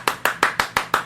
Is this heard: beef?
no